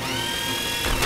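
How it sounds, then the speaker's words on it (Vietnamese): Cartoon drill boring into ice around a trapped character, a steady whirring, grinding mechanical buzz that runs loud and unbroken, with a short scraping burst near the end. "mình sẽ khoan đá xung quanh cậu ấy ra."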